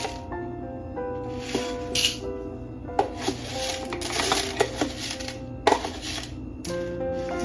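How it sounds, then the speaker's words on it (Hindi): Whole fennel seeds tipped into a cooking pot for mutton yakhni pulao, giving brief sizzling, rattling bursts that start and stop several times over a low steady hum. "सौंफ डालेंगे"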